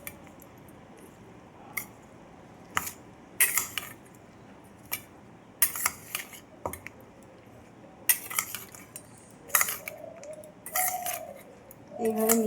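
Papad chaat being tossed with chili flakes, sesame and salt, heard as scattered crisp clinks and scrapes of a spoon against a bowl, irregular and close, with crunchy rustles and some quieter gaps.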